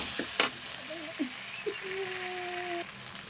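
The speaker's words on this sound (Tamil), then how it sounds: "இப்போ தக்காளி ஆட் பண்ணிட்டு வெங்காயத்தோட நல்லா சேர்த்து வதக்கிக்கலாம்" Onions and tomatoes sautéing in a pan for chicken gravy give a soft steady sizzle with a few light utensil taps and scrapes, faint and close.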